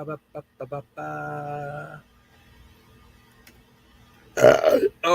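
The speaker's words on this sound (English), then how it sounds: "Did you guys hear me burping?" A man gives one loud, close belch during a live trucking show, following a stretch of his own talking and a quieter pause.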